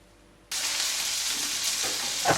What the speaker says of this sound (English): Sorry about the sound in the back. We're frying some chicken.